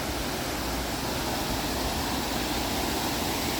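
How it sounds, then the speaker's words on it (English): A resort waterfall rushes in a constant, broad hiss of falling water, steady and close with no breaks or other sounds. "There's a waterfall"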